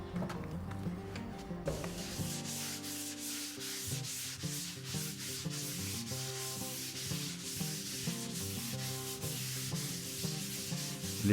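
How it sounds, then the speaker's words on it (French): Light hand sanding of dried waxed plaster finish, a continuous rhythmic scratchy rubbing in regular back-and-forth strokes, close and fairly quiet with no voices. "puis poncez légèrement les petites aspérités laissées par le lissage"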